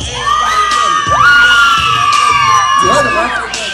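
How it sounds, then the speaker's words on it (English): A crowd of children at a bar mitzvah party cheering, shouting and whooping loudly and continuously, close and dense, with a few high squeals rising above the noise. "if you think Super won, make some noise"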